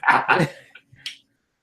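A dog gives two quick, close barks in an indoor podcast setting, followed by a short breathy snort as the sound trails off.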